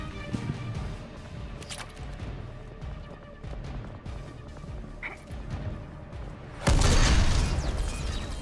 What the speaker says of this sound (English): What was the explosion?